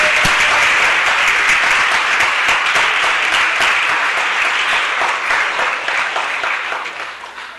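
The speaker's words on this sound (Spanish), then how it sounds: "Háganos tomar un momento para darle un buen aplauso a Catherine" Audience applause at a city council meeting, a steady dense wash of clapping from many hands that carries through the whole stretch and tapers slightly near the end, with no talk over it.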